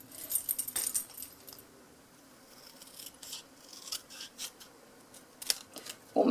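A small scrap of grey granite paper is snipped in half with scissors, giving sharp, close little cuts and clicks against a quiet background, with a louder rustle at the end.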